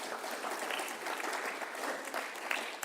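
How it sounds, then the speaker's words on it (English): Audience applause at a Hall of Fame induction ceremony honouring a high school coach, a dense, sustained patter of many hands clapping at steady volume throughout. "put your hands up and raise an applause for him right there"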